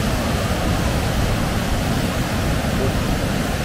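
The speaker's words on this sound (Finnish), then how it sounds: "Ette te varmaan kuule tuolta kuohulta mun ääntä lainkaan." River rapids in Oulanka National Park in Finland roaring as a dense, continuous broadband rush of white water, loud and close, with no pauses or variation.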